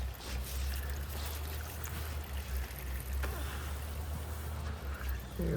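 Water drains steadily out of a shallow well pump pipe on a gray, damp day, a continuous trickling, pouring wash over a low outdoor rumble, with no voices.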